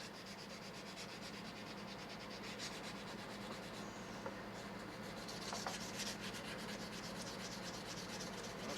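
Sandpaper rubs steadily against a hand-carved stone bear pipe in Native American style, producing a continuous close, soft, gritty scratching with no breaks and no voices.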